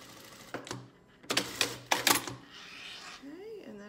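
A sewing machine top-stitches a seam on a blocked-squares pillow in a few short, quick bursts with pauses between them, heard close against a quiet room.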